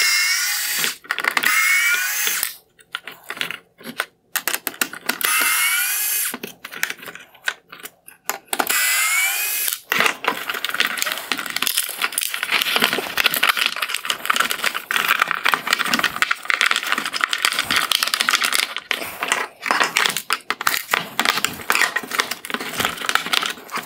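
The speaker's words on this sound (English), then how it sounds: "I'm going to go through and remove all of the T20 torx screws holding the wire harness in place" Removing T20 Torx screws that hold the wire harness on a 2019-2021 BMW X7 LED headlight: close, busy clicking, scraping and whirring driver bursts, with a short pause before steadier work resumes.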